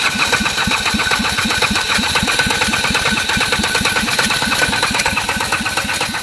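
Ligier Nova 500 microcar engine cranking and chugging in a fast, regular rhythm of pulses, loud and close throughout with no talk.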